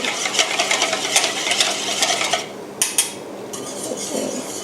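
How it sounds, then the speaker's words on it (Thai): A mixture is stirred in a pot on the stove while cooking a vanilla cream, with a steady run of close, brisk scraping and clinking of a utensil against the pan, then a softer stretch with a couple of sharper knocks. "คนให้เข้ากันเลยนะคะ"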